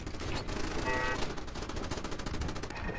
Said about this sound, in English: It's a godsend having these turrets here.